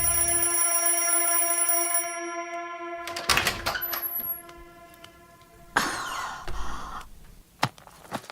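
An alarm clock rings with a steady electronic tone that stops after a few seconds. Clattering knocks and a brief bell-like ding follow in a quiet room.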